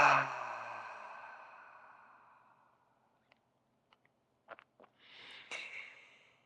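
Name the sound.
deep breath with audible exhale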